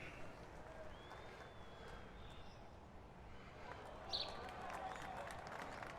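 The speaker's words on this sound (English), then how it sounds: "That's probably a little bit too much clapping, though." Spectator applause in the GS Pro golf simulator at Royal Portrush, a steady, fairly faint wash of crowd clapping that runs continuously, swelling slightly near the end.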